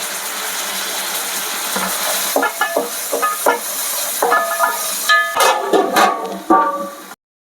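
Chopped tomatoes tipped into a hot pan for Telangana-style bagara rice, giving a steady broad sizzle with scraping stir strokes and clinks throughout, ending abruptly.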